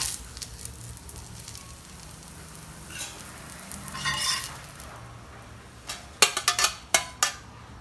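Dosa cooking on a hot griddle, a faint steady sizzle broken by light scraping, then a close burst of sharp metal clinks and taps from a spatula against the pan near the end, with no talking.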